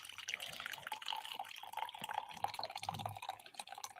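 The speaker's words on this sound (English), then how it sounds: "Pour my coffee." Coffee pours into a cup in a steady, faint trickle with small drips and splashes, close and quiet, no voices.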